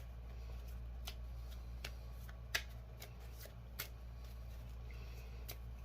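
Tarot cards being shuffled by hand at close range, a quiet series of soft riffling flicks and light taps over a faint steady background hum, with no talking.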